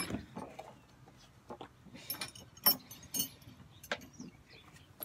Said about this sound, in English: So I'm gonna just take all my Allen keys.